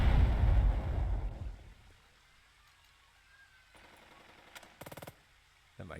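Gunfire aimed at the player's squad in the tactical war game Burden of Command, with a heavy rumbling barrage at the start fading into quiet, then a few sharp rapid bursts of distant shots near the end.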